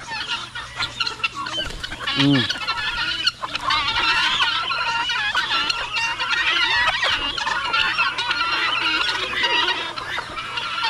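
Chickens cluck and chatter continuously at close range while feeding alongside crows, with one louder rising squawk early on, over a busy outdoor background.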